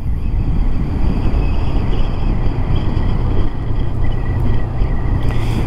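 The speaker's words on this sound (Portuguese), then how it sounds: "tá ventando pra caramba" Strong wind buffets the microphone in a constant loud rumble and roar, gusting steadily without pause.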